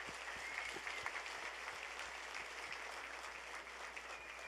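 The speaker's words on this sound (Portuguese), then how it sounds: "Dá uma salva de palmas, galera." A church congregation applauds, a steady wash of many hands clapping at a moderate distance that holds evenly throughout, with no voices.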